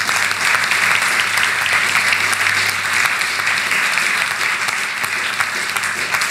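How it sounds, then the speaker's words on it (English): An audience applauds the guests at the close of a 2015 talk, steady sustained clapping from a full room holding at an even loud level throughout, with no voices over it. "let's get a round of applause for our guests."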